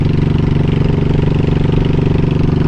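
A motorcycle engine runs close and loud at a steady idle, its throbbing pulse holding even for the whole stretch with no voices over it.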